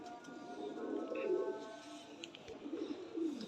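Chinese pigeons coo softly in a quiet, low murmur of rolling, throaty calls, faint and close, with slight background noise.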